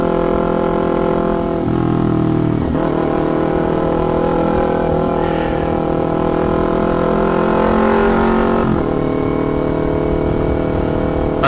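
A 2019 Kawasaki Ninja 250 with a loud custom exhaust drones steadily and close up, its engine rising and dropping through gear changes with a couple of brief pitch dips.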